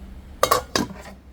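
Prestige induction-base cookware pots handled and knocked together, two quick clinking metallic impacts close by, each ringing briefly before fading, with no talk.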